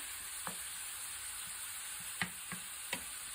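Ground meat frying in a pan for Puerto Rican plantain lasagna, a soft steady sizzle punctuated by a few distinct taps and scrapes as a utensil breaks it into crumbles, close and quiet with no talk.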